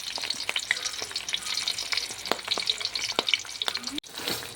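An egg fries sunny side up in a pan, crackling and sizzling continuously with sharp pops close by. The sound briefly cuts out near the end, then the sizzle resumes.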